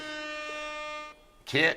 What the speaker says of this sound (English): We got a little air horn on that one.